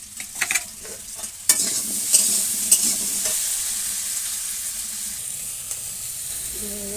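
Soaked soybean chunks hit hot oil with chillies and bay leaves, bursting into a loud close sizzle with a few sharp crackles and spatters, then settling into a steady hiss.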